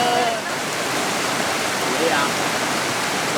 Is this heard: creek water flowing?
yes